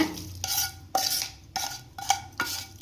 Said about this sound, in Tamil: வறுத்த திணை அரிசி இந்த குக்கரில் சேர்த்திக்கோங்க